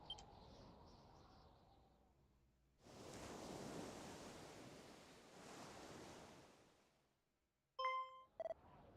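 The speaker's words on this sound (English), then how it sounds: "I hear waves." Surf from the sea in the Dragon Quest 1+2 HD 2D video game rolls in two soft swells of rushing noise, each washing in and fading away, followed by brief electronic menu beeps.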